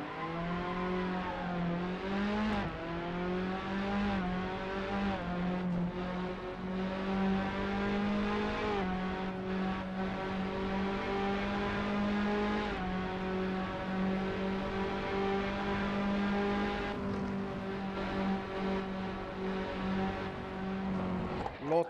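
Fiat Abarth race car engine in Assetto Corsa, a steady loud harmonic drone with rising and falling revs as gears shift, running continuously throughout while a voice talks over it at times.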